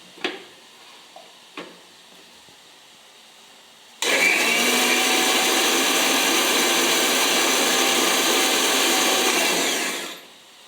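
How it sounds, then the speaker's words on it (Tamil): After a few light clicks and taps, a mixer grinder loaded with onion roars on for about six seconds at a loud, steady whine, then winds down to quiet. There is no speech. "இப்போ வெங்காயத்தை போட்டு அரைச்சேன்"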